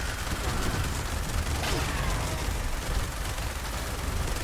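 Rapid gunfire from the video game Fallout 76 crackles in a dense, continuous barrage, loud and steady throughout with no clear gaps between shots.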